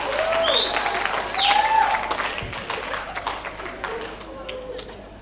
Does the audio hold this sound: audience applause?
yes